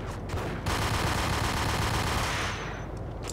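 Dense, continuous gunfire from a cutscene in the Max Payne video game, loud and sustained like a firefight, fading slightly toward the end.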